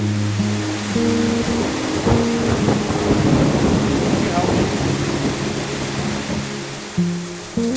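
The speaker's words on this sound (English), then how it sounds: "the next morning, feeling fresh once again, we got back on the road, only to be greeted by the rain" Steady rain with rumbling thunder on a mountain road in Oaxaca, a loud continuous downpour with low rolling thunder swelling through the middle and no voices.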